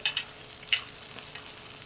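Trout frying in a hot pan, a faint steady sizzle with a few brief crackling pops, close and quiet with no voices.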